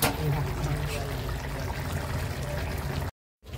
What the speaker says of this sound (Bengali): এবার ঘি দিয়ে দিয়েছি